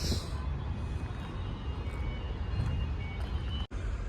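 A vehicle, four years parked and just serviced, reversing inside with a rumbling engine idle, a faint reversing beep and steady mechanical noise throughout, brief dropout near the end.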